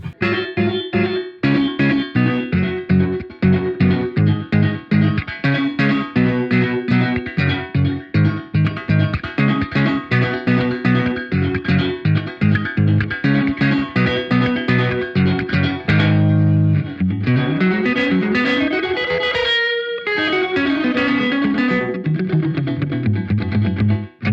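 A guitar played through a BOSS RV-500 reverb pedal set to its Roland SRV 2000 mode, with rhythmic chords and sliding notes carrying a short slapback-style reverb tail, loud and continuous throughout without talk.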